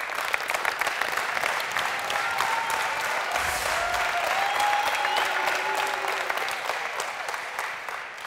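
Studio audience applauding on a Turkish-Azerbaijani television show, a dense, sustained wash of clapping that holds steady at full strength for the whole stretch, with faint tonal sounds drifting through it.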